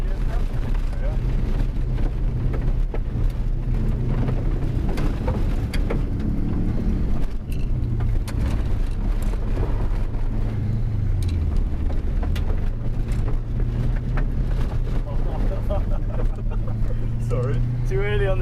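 A car engine accelerating on a road, a steady droning hum that rises and shifts in pitch under continuous conversation inside the car.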